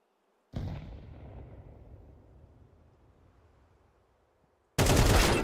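A video game grenade blast booms suddenly and rolls away into a long fading rumble, followed by an abrupt loud burst of gunfire at the end.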